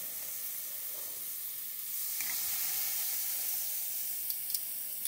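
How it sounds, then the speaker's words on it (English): Pork chops sizzle on a hot grill with a steady, bright hiss that swells slightly partway through and continues close and loud, with a few faint pops and crackles. "I love that sizzle."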